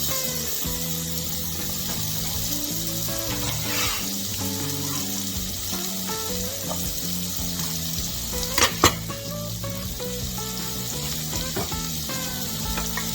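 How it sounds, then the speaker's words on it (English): Onions fry in a skillet with a continuous, even sizzle and occasional stirring clicks, close up and steady throughout, with one brief sharper clatter partway through; no voices. "Go ahead and start getting these onions soft,"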